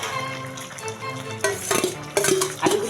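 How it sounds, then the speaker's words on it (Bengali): Boiled, fried potatoes are tipped into a pan and stirred, giving a few close scraping clatters and stirring scrapes over a soft frying background. "আমি আলুগুলো দিয়ে দেব।"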